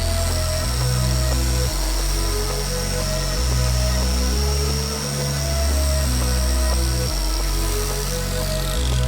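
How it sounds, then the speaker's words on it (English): A 3-inch grinder buffing an engine cover runs loud and close for the whole stretch, its motor whine shifting in pitch and load as it presses against the metal, with no talk over it. "That 3-inch grinder puts some vibrations in your hands, doesn't it?"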